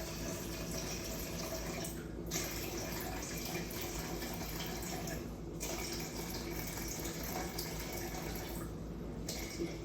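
Water pours steadily into a large mixing bowl for ciabatta dough made with biga, a continuous close rushing flow filling the whole stretch with brief dips.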